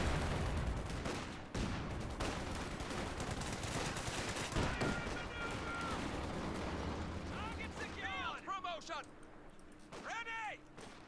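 SGG units in a strategy video game open fire on a mortar: dense, rattling bursts of gunfire and impacts crowd together, thinning out near the end as voices talk over the battle.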